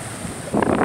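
Ocean waves at a beach wash in, a soft rushing roar under wind buffeting the microphone that swells louder in the second half.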